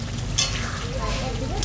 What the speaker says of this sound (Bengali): এখন এই জলটা শুকাবে, তারপরে ভাজা ভাজা হবে নাকি